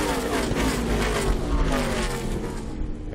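NASCAR trucks racing around an oval track, a loud sustained roar of several engines at high revs sweeping past and fading toward the end.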